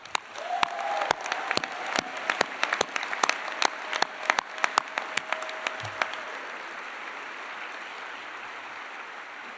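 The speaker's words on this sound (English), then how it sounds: "Let's give them a big round of applause." Audience applause at a medical school white coat ceremony, a steady wash of clapping with sharp individual claps standing out, fading gradually toward the end.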